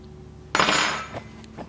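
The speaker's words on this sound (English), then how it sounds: "now I'm going to carefully remove this and put it on a cutting board" An air fryer tray being lifted out and set down on a cutting board, with one sharp clattering knock of metal on board followed by a few softer taps and settling clinks, close and alone.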